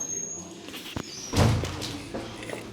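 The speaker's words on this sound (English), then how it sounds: "let's get through these doors here" Heavy doors inside an old Cold War bunker being pushed open, a sharp knock followed by a loud, booming thud and some scraping, with people speaking nearby.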